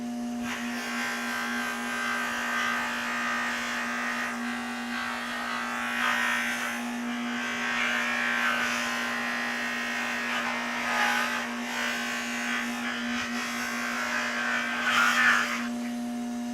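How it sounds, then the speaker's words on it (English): Honda motorcycle parts are polished with a buzzing power tool whose steady whine hums throughout, swelling in and out as the polishing passes rise and fall, with a constant electrical drone underneath. "A little ASMR polishing action going on tonight."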